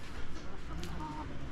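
Chickens clucking on a farm, a short run of soft, nearby clucks over steady outdoor background noise.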